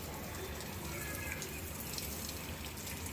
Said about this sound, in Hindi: अब पौधों को नहलाऊंगी